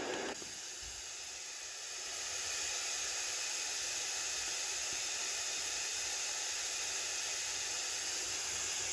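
Blue noise from a Magicteam sound machine gives a bright, sharp hiss weighted toward the treble, swelling slightly in level early on and then holding perfectly steady with no other sounds.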